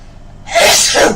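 A single loud, abrupt sneeze bursting out after a short quiet moment, close and clear with a breathy tail.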